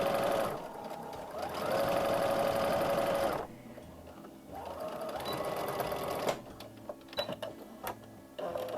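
A sewing machine stitches fabric in two loud sustained bursts, steady whirring runs separated by a pause, followed by scattered clicks and handling taps.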